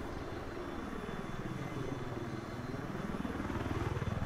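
A helicopter in Battlefield 4 Naval Strike drones with a steady pulsing rotor chop and engine whine, close and loud throughout, growing slightly stronger toward the end.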